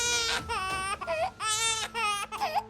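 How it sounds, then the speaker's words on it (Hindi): An infant cries loudly in repeated wailing bursts with brief gaps for breath, close by and clear, with no talk over it. "ये बच्चे के रोने की आवाज कहाँ से आ रही है?"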